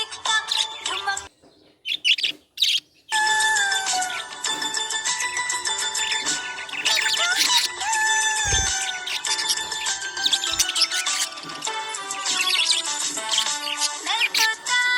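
A happy pet budgie chirps in rapid, dense bursts of bright tweets and warbles, loud and close, running almost continuously after a few choppy starts.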